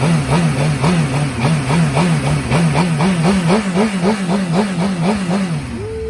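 A motorcycle engine revs repeatedly in quick rhythmic blips, the throttle snapping up and down about a dozen times, loud and close, then settling to idle at the end.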